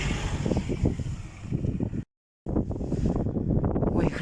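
Strong, gusty wind buffets the microphone outdoors on a sunny, cold day, roaring continuously with a brief complete dropout midway, loud and close with no talk.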